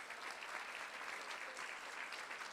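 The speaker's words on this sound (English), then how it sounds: "let's give her a big round of applause" Steady applause from an audience at a school board meeting, continuous and even throughout with no pauses.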